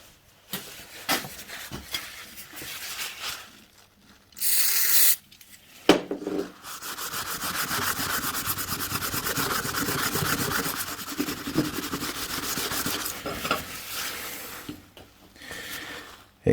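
An old spanner is sprayed and wiped with blue paper roll. A short spray burst is followed by close, sustained rubbing and scrubbing in an uneven rhythm, with brief pauses.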